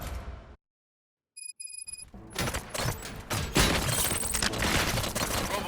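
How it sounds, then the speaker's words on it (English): Gunfire erupts in the Robocop Rogue City video game after a short silent gap and a few electronic beeps. A dense, loud fusillade of shots and impacts follows and continues to the end. "Gunshots? What's going on?"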